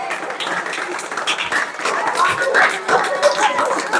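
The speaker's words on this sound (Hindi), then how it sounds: "जोरदार तालियां।" Applause from an audience at a Guru Purnima celebration at a coaching and computer centre, a dense patter of clapping running the whole time at moderate level with some background voices.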